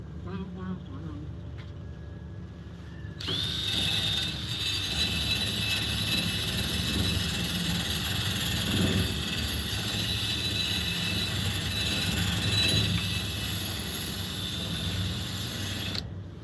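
Crackling, buzzing arc welding fuses screws onto roughly 20-gauge thin sheet metal in a home garage, beginning after a few seconds and running steady and close to the end, with hiss and sputter throughout.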